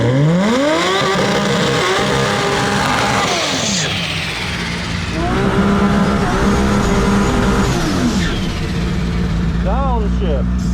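Toyota Supra engine revving hard through the gears on an acceleration run, a loud close roar climbing in pitch with sharp drops at each shift, with voices talking over it.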